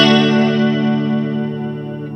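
Electric guitar run through a BOSS GT-1 or ZOOM G1 FOUR multi-effects unit with chorus, delay and reverb combined, a sustained clean chord ringing and slowly decaying with shimmering modulation and a lingering echo tail, heard alone.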